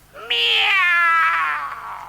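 A voice imitates a cat's meow in a radio drama, a single drawn-out, wavering mew lasting about two seconds, loud and close with no other sound around it.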